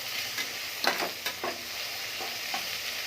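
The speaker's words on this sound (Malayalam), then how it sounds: "അരിഞ്ഞു വെച്ചിട്ടുള്ള വെജിറ്റബിൾസ് ഇട്ട് കൊടുക്കാം. ഇതൊന്ന് വഴറ്റി എടുക്കണം." Chopped vegetables for a vegetable biryani sauté in a pan, a close steady sizzle with a few soft stirring scrapes and clinks, no voices.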